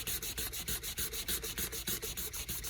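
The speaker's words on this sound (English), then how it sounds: "Just a little bit of sandpaper to polish it up, to make it look pretty," Sandpaper polishes the nut of a Jaxville Wolf guitar in quick, even back-and-forth strokes, about fifteen rasping passes in under three seconds, close and alone.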